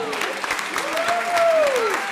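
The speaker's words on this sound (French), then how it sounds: "Applaudissez les janissaires, les amis!" An opera audience applauds the janissaires in a staging of L'Enlèvement au sérail, with a steady clapping wash under a held sung note that swells and fades.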